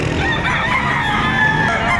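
Chickens at a poultry market in Batangas, a dense chorus of clucking and crowing fowl close by with no talk over it.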